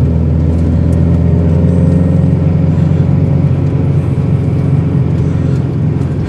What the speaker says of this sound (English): It's nice to be driving in with a street car this time.